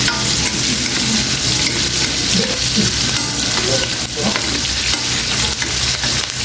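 Vegetables and bihon noodles stir-frying in a pan for dinner, a steady loud sizzle with scraping stirs running throughout, no talking.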